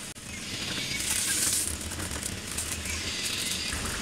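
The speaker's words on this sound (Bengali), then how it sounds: "এনে এই ফোড়নটার মধ্যে ঢেলে দিব, ভালো করে মিশিয়ে দিতে হবে" Tomato mixture for a Kolkata-style tomato chutney poured into hot oil tempered with panch phoron, giving a sharp hiss that settles into a steady crackling sizzle.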